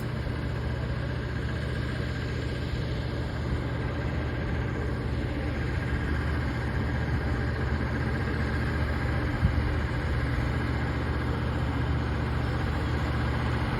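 A boat engine idling at the dock: a steady low drone, even and unchanging, with a constant rumble throughout and no voices.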